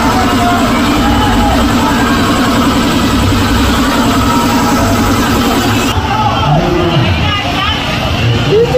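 A 2016-or-later Toyota Fortuner engine idles steadily after its EGR valve and intake manifold were cleaned, a low, even hum running throughout, with murmuring voices of a nearby crowd in the background.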